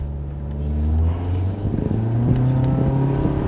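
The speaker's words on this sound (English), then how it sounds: "The first one is when you leave it in drive and nail the gas pedal." A Mitsubishi Lancer with a CVT, left in drive and floored, roars as it accelerates at full throttle, its loud engine drone holding steady and rising slightly, close and continuous with no talk.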